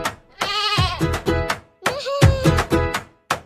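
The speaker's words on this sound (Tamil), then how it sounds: "ஆட்டுக்குட்டி துள்ளி குடிக்குது" A lamb bleats repeatedly in a Tamil children's song, a series of sharp, wavering, high-pitched cries in quick bursts with short pauses between, close and loud.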